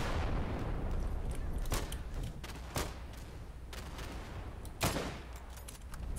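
Gunfire from the video game Day of Infamy, a dense crackle of distant rifle and machine-gun shots with a few louder sharp reports standing out, rolling on continuously without talk.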